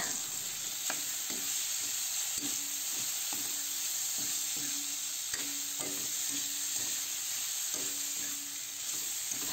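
Kangkong and chicken sizzle steadily in a pan while a utensil stirs them in repeated scraping strokes, close and clear, with no voices.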